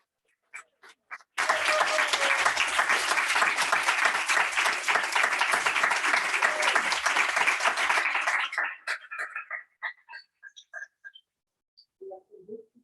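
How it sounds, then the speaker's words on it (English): A small audience at a poetry reading gives the poets a steady round of clapping for about seven seconds, then it fades into a few scattered claps. "Let's give the poets another round of applause."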